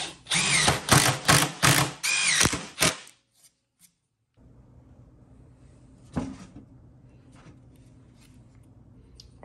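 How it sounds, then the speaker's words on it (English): A power drill drills a 3/8-inch hole through wood, whirring loudly in several quick bursts for about three seconds, then stops, leaving a quiet room hum with one brief knock. "so we can drill the 3/8 hole right through where it should be"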